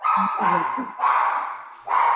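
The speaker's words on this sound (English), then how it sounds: "Sorry, that's my dog." A pet dog barking indoors at home, several close, sharp barks in quick bursts that repeat across the moment.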